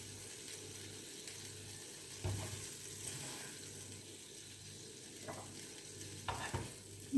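Tomatoes fry in a pan for a breakfast dish, with a quiet, steady sizzle and occasional soft scrapes and clinks as they are stirred.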